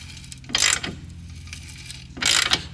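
A ratchet being cranked to free a stuck bolt on a Volkswagen Golf 2 Rallye: two short bursts of rapid clicking pawl action about two seconds apart, close and clear over a quiet workshop background.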